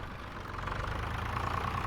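Idling tractor engine on a village farm, a steady low mechanical rumble that holds close and even throughout, growing slightly louder after the first half-second.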